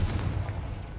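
A Confringo fire spell blasting in Hogwarts Legacy: a single short, heavy boom with a deep rumbling body that fades quickly.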